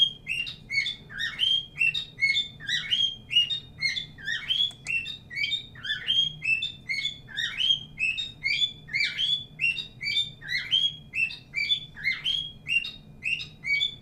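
Close, insistent bird tweeting repeats in even, rapid pulses for the whole stretch, each burst of high chirps following the last without pause.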